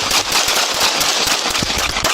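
A police officer firing gunshots wildly in a parking lot: a dense, loud, continuous burst of rapid shots that blur into a steady roar, close and harsh throughout.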